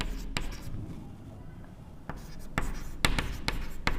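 A pen scratches across paper up close during an accounting class on receipts and payments, with a rustling stroke sound and sharp taps of pen strokes, while someone speaks over it.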